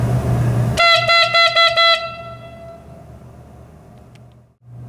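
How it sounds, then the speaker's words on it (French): A reed pipe of a church organ in Bourg is blown, giving a loud, brassy, horn-like blast that pulses briefly and then cuts off, leaving a fading room echo. "si je viens souffler dedans, l'anche va se mettre à vibrer et ça fait un son beaucoup plus puissant que le tuyau à bouche."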